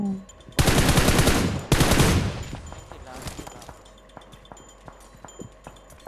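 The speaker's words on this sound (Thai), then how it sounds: "ข้างนอกก็ยิง ข้างหลังก็ยิงมาตังเลย" Gunfire in the video game PUBG Mobile, two long, loud sustained bursts of rapid shots followed by scattered single cracks and lighter pops, fairly close.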